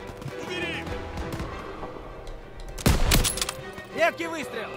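Sharp bursts of video game gunfire crack out amid layered battle noise and chatter, with a loud cluster of shots near the middle, in Call of Duty: WWII.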